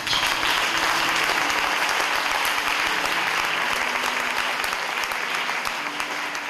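A church congregation applauds together in a sustained, dense burst of clapping that fills the hall evenly from start to finish, loud and close with no talk over it.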